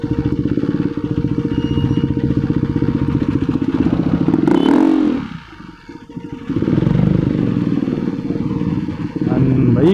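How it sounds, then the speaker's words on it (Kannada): A KTM Duke 390 motorcycle engine running hot on a ride toward Madikeri drones steadily up close, dips briefly about midway, then returns to its loud, even hum. "ನನ್ನ ಬೈಕ್ ಇಂಜಿನ್ ಆಲ್ರೆಡಿ ಹೀಟ್ ಆಗಿಬಿಟ್ಟು ಓವೆನ್ ಥರ ಸೌಂಡ್ ಬರ್ತಾ ಇದೆ."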